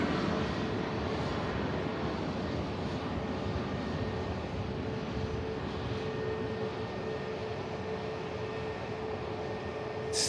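A Ryanair jet taking off in the distance at Manchester Airport makes a continuous, even engine roar that fills the background, with no voices over it.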